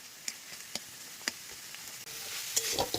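Spice paste with chili powder fries in a pan for a banana-flower dish, a close continuous sizzle punctuated by several sharp spoon taps and scrapes, growing busier toward the end.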